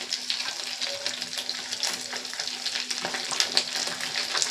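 Rice pakoras fry in hot oil with a dense, bubbling crackle while pieces are lifted out and drained, close and steady, with a low hum underneath.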